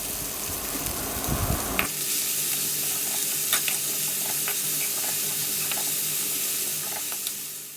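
Onion, tomato, grated cabbage and carrot sauté in a pan, with a steady sizzling hiss and occasional scrapes and taps of a spoon stirring the vegetables.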